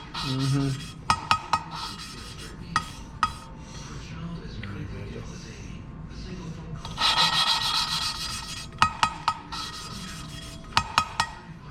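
Gritty rubbing and grinding as engine valves are lapped into their seats with lapping compound, repeated scraping strokes with occasional sharp taps, close by and fairly quiet.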